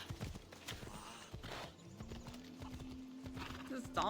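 Horse hooves clip-clop along at a walking pace, mixed with a whinny and voices talking nearby in a busy outdoor setting where a horse is being urged on.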